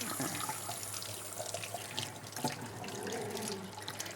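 Cucumbers rinsed under a running kitchen tap, a steady broadband rush of water with a few faint splashes as the vegetables are rubbed, continuous and fairly soft throughout.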